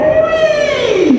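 A crowd of audience members vocally imitates a siren, a single sustained voiced tone sliding from high to low over about a second, loud and close, with no other talk.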